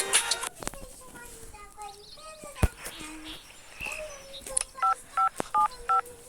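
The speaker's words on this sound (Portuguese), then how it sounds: "Também eu vou ligar pra minha amiga." Phone dialing tones in the Avatar World game, a short run of evenly spaced electronic beeps near the end, following chirpy game sounds and a voice talking.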